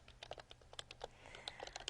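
Quick, uneven keystrokes tapping on a computer keyboard, soft and close, in short bursts without talking.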